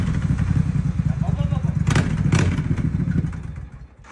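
A Suzuki Intruder motorcycle engine runs steadily at close range, a loud low rumble with some clatter, fading toward the end while a person talks over it.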